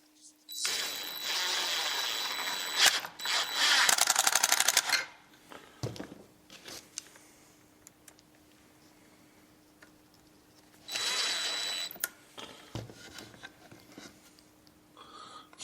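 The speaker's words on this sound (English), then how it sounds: "just going to put these screws in" A power drill driving screws into wood: two separate whirring bursts of a few seconds each, close and fairly loud, with quiet handling clicks and pauses between them.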